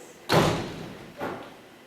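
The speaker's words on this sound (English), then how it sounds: "Am I crazy or was that a gunshot?" Gunshot sound effect on a theatre stage during a play: one sharp, loud bang with a reverberant room tail, followed a moment later by a softer second thump.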